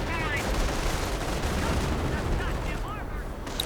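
Gunfire in a World War II strategy game, a dense, continuous crackle of rifle and machine-gun shots with distant booms, loud and layered through the whole stretch.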